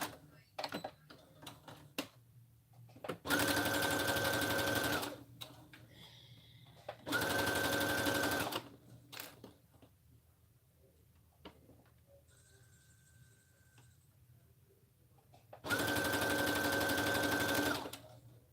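Sewing machine running in three bursts of a few seconds each, a steady, fast mechanical whir close by, separated by quieter stretches with faint background sounds and occasional talk.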